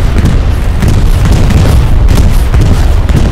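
Bombs from a bombing run in the WWII shooter Hell Let Loose explode in a dense, loud barrage, with deep continuous booms and rumble rolling through the whole stretch.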